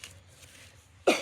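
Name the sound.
cough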